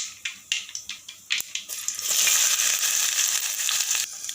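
Cumin and mustard seeds crackle in a series of sharp pops in hot oil, then onion goes in and a loud, continuous sizzle surges up and holds, close by with no talking.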